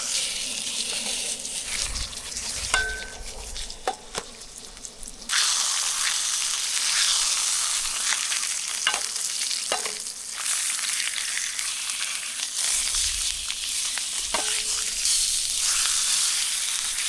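Steak sizzles and fries steadily on a camp stove on an island campsite in Algonquin Park, a loud, close hiss that swells louder partway through, with a few faint clinks and knocks.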